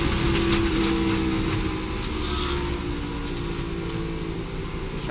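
A NASCAR Cup Series race car at Pocono Raceway slows after lightly tapping the wall, its engine a continuous mid-pitched drone under steady track noise, fairly distant with no talk.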